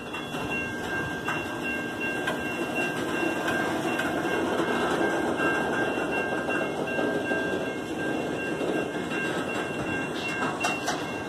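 Canadian National 8879 freight train backs slowly past a crossing in Effingham, Illinois, a steady close rumble of rolling cars with rail squeal and crossing bell tones ringing throughout.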